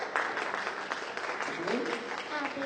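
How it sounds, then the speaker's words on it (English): Audience applause for a young child brought on stage at a live show, steady clapping throughout with a voice talking over it. "Give Sarah a big round of applause."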